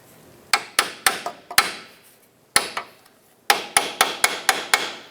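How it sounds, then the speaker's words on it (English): A hammer strikes a chisel driven into the subframe of a 2008-2013 Nissan Rogue to spread it, giving sharp ringing metallic taps in quick clusters of four to six with short pauses between, loud and close. "Insert your chisel in the back side here."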